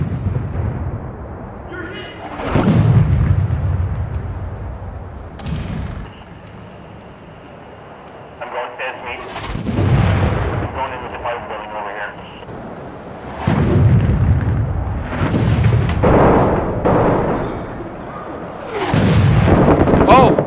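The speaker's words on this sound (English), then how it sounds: "I can't hear a fucking thing with those mortars" Mortar shells burst repeatedly in the war game Six Days in Fallujah: heavy, booming blasts arrive in several waves, with rumbling tails between them and voices talking over the barrage.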